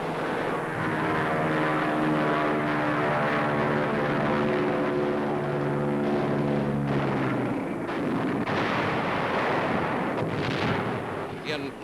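WWII RAF aircraft roar over anti-aircraft fire in a wartime newsreel, a dense, continuous loud drone of engines with heavy booming blasts throughout and no talking.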